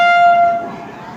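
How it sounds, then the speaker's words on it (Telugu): A WAP-7 electric locomotive pulling an express train into a crowded station platform sounds a loud, close horn blast that cuts off partway, leaving low rumbling and crowd noise. "ఇప్పుడే ప్లాట్ఫారం మీదకి పెడుతున్నాడు. 5వ నెంబర్ ప్లాట్ఫారం మీదకి."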